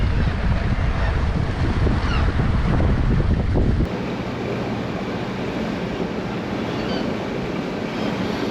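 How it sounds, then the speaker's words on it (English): Ocean waves on a breezy morning at sea while out fishing for mackerel, a loud continuous wash of surf mixed with heavy wind buffeting the microphone, easing a little partway through. "I like the ocean waves."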